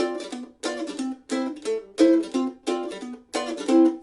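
Rhythmic strummed mandolin chords in short bright bursts, about seven strokes with brief gaps between, played alone.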